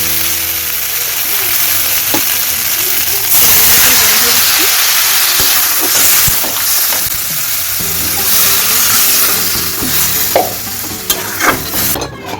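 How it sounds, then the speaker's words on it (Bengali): Water poured into a hot pan of frying cumin paste sets off a loud, sustained sizzle and hiss, with stirring scrapes and a voice talking over it. "দিয়ে দেবো জল।"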